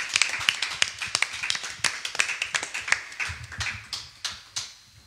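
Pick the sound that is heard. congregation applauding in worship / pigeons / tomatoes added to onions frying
congregation applauding in worship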